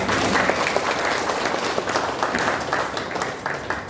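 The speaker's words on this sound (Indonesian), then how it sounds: "Tepuk tangannya." An audience applauds during a regent's public speech, a thick, continuous wash of many hands clapping that stays loud and steady throughout.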